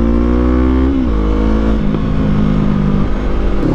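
A 2024 Kawasaki Eliminator motorcycle fitted with an Akrapovic exhaust revs hard and pulls away, its engine note climbing steadily and staying loud and close throughout.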